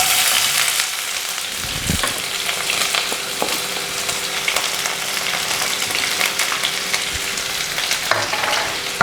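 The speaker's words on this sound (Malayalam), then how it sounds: "നമുക്ക് സവോള ഇട്ട് കൊടുക്കാം കേട്ടോ" Sliced onions hitting hot oil with dried chilies and mustard seeds for an okra and tomato curry, a loud continuous close sizzle and hiss with occasional stirring scrapes throughout.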